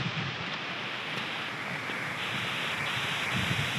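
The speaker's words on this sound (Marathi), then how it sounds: "सगळीकडे खूप मोठी मोठी झाडे वाढली आणि आता हवा पण खूप जास्त सुटली." Strong wind roars steadily through a forest of tall trees on the trail up Sarasgad Fort during the rains, a dense, continuous rushing with gusty surges and no voices.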